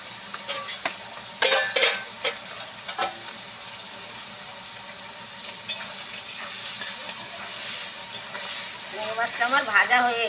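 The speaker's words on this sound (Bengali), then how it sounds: "চিংড়ি মাছটা আমার ভাজা হয়ে গেছে" Prawns fried in a pan for a Bengali pui shak dish crackle and hiss steadily, with scraping spatula strokes and short bursts of spatter, ending in a few quick clattering stirs.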